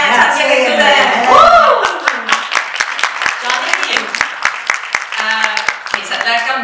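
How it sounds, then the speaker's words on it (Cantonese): An audience claps warmly at a concert event after a voice briefly speaks. The applause is a dense, steady patter of hand claps that carries on to the end. "我哋嘅熱烈掌聲"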